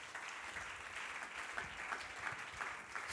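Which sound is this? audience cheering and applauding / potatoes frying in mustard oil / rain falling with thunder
audience cheering and applauding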